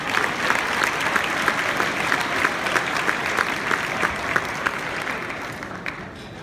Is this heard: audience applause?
yes